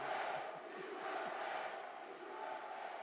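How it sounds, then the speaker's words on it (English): Large political rally crowd for Mike Pence in Indiana, a steady roar of cheering and shouting voices at a moderate distance, sustained without a break. "Listen to that crowd."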